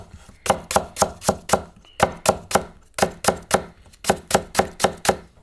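A knife thinly slices Korean green onion on a cutting board, a quick run of crisp, close chops in short bursts with brief pauses between them.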